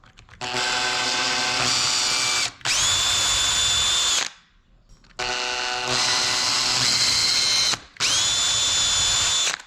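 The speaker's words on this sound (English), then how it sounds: "And then I just wanna use a pretty small bit for those screws and slowly pre-drill." A power drill with a small bit slowly pre-drills screw holes for a door strike plate. It runs in three long whirring bursts of a few seconds each, with brief pauses between them, close and loud.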